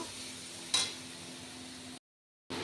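Potatoes being sautéed with spices in a pan, a soft steady sizzle with a brief scrape of stirring, then a short silent gap before the frying resumes.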